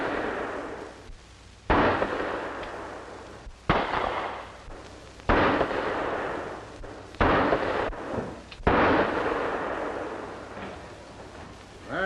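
Six handgun shots fired one at a time at a target, each a loud, sharp crack with a ringing decay, spaced a second or two apart in an even rhythm.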